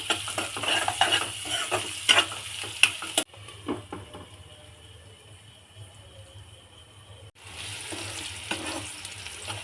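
Onions with a pinch of salt are stirred and fried in a pan, with busy spatula scraping over a steady sizzle that eases into a quieter fry midway, then picks up again.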